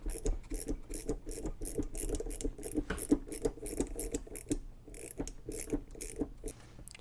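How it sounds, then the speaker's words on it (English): Loosening T25 Torx screws on a Ford Sony subwoofer in a Focus ST gives a quick series of close ratcheting clicks, repeated in short irregular bursts throughout. "once you remove the T25 Torx screws on the front"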